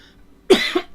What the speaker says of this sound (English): Now I'm gonna be coughing for the whole stream because of the voices I decided to do.